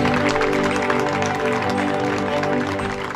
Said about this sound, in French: Ils méritent vos applaudissements